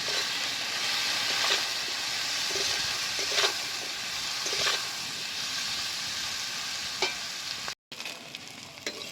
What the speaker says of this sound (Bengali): এবার আমি ভালো করে সবজিগুলো ভেজে নেব।